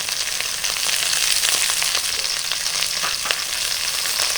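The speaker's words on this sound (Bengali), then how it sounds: "নুন হলুদটা দিয়ে আমটাকে একটু ভেজে নেবো" Raw mango pieces fry in a pan with turmeric and salt, giving a steady, loud, close hiss of sizzling oil that runs unbroken throughout with a few crackles and no talking.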